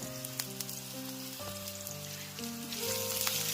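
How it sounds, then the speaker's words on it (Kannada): Green chillies, onion and curry leaves fry in hot oil for a chicken liver pepper dry, giving a steady sizzle and crackle that swells toward the end, heard beneath background music. "ಎಣ್ಣೆಯಲ್ಲಿ ಕಾದಿದೆ, ಹಾಗಾಗಿ ಹಸಿಮೆಣಸಿನ್ಕಾಯಿ ಸೇರಿಸ್ಕೊತಾ ಇದ್ದೀನಿ, ಈರುಳ್ಳಿ ಮತ್ತೆ ಕರಿಬೇವಿನ ಸೊಪ್ಪು."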